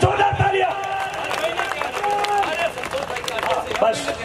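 Crowd at a stage program in Lohawa clapping and applauding, the scattered claps running steadily beneath a loud voice that keeps talking over the hubbub.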